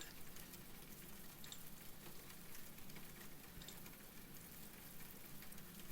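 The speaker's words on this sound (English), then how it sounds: "I'm putting the rain back on." Steady rain hiss with fine crackling droplets, continuous and fairly quiet, no voices.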